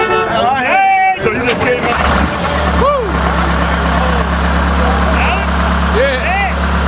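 A 1974 SEPTA Flxible New Look bus, number 6569, cranks and starts, then settles into a deep, loud, steady idle rumble close by. Several people talk over it, both before and after the start.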